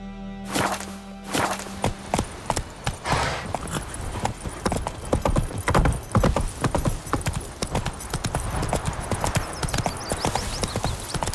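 In The Witcher, the horse Roach gallops with dense, rapid hoofbeats in a steady, close, loud clip-clop rhythm that continues throughout, with a brief tonal game sound at the start.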